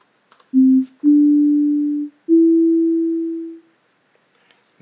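Three pure synthesizer tones sound one after another, each held steady, with no release time so the notes stop quickly; the last one fades sooner than it starts, leaving near silence and a faint click at the end.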